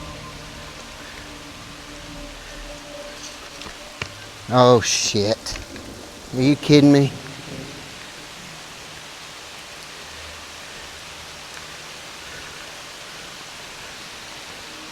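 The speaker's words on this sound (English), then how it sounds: "Here comes the heavy rain." Heavy rain pours steadily throughout, a dense, constant hiss, while a person briefly exclaims partway through.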